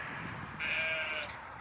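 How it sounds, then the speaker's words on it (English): A sheep in an open field bleats once in a short wavering call, fairly faint and a little distant, over quiet outdoor background noise. "Yeah, sheep agrees."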